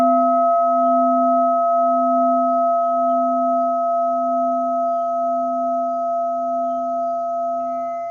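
A crystal singing bowl sounds a C root note tuned to 432 Hz, a pure, steady ringing tone that sustains evenly throughout with a slow, regular wobbling pulse.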